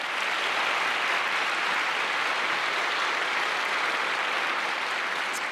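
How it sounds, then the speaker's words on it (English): Civic audience at a city address breaking into sustained applause, a dense, even wash of clapping from a large crowd that holds steady throughout without speech. "Let's give these folks a round of applause."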